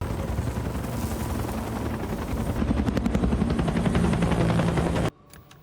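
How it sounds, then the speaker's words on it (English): A helicopter on a dramatized Chernobyl disaster scene thunders close and loud with steady rapid rotor thumping, building slightly in intensity before cutting off abruptly near the end. "they're having to use a helicopter to drop it onto the proper roof"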